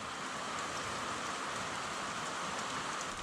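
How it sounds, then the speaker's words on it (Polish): Steady rain pours down outdoors, a dense, even hiss of drops on surfaces with no break from start to finish and no voices. "Ale najważniejsze, że pada."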